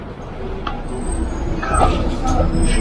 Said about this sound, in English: Oh man, now we have 2 buses.